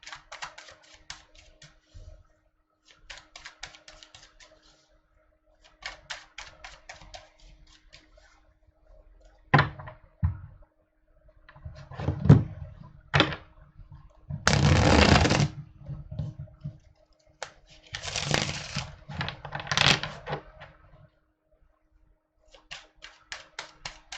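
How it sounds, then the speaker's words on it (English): Tarot cards are shuffled by hand in repeated bursts of quick riffling and soft slapping, with short pauses between rounds and no talking. "Now let me shuffle and we can go to Scorpio."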